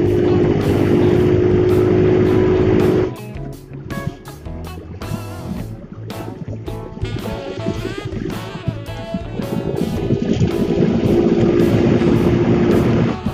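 A motorcycle running on half a liter of gasoline, its engine droning loud and close with a steady tonal hum that dips briefly, then builds again as the throttle opens, without any talking.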